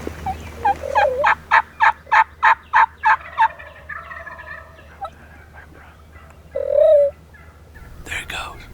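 A wild Rio Grande turkey gobbles in a rapid rattling burst in Oklahoma, then soft clucks and yelps from hens follow nearby, with one more sharp gobble near the end.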